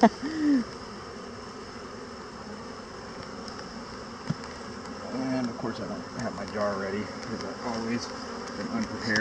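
Honey bees packed together in a hive, eating honey, make a soft continuous buzzing hum close by, with faint handling sounds and a voice speaking briefly over it.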